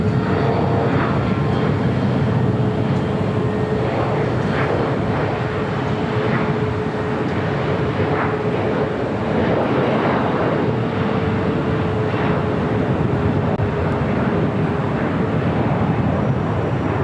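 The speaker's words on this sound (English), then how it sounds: "Next arrival is at Aloha Air Cargo, converted 767-300ER coming in from Seattle." An Aloha Air Cargo converted 767-300ER arriving from Seattle, its jet engines a loud, continuous roar with a steady whine, constant and close for the whole stretch.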